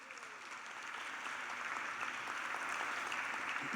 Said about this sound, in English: please can we give them a rapturous round of applause